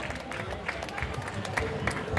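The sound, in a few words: audience applause for the crafts sponsors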